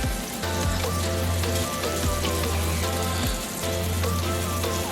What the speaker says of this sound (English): we're sizzling this right now